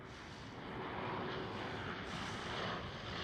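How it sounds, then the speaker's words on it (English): A KLM Boeing 737 at Amsterdam Schiphol roars at a distance, a steady broad engine rumble holding level throughout with no voices. "It's a KLM 737"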